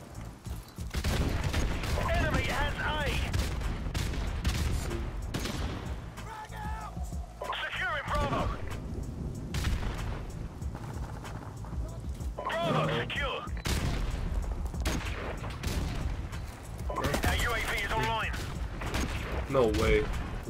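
Rapid bursts of gunfire and explosions in Call of Duty Modern Warfare Remastered multiplayer, dense and continuous, with a voice talking over the action throughout.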